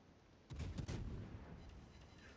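Heavy naval gun salvos in a warship video game: two deep booming blasts close together, each rolling into a long low rumble that fades slowly away.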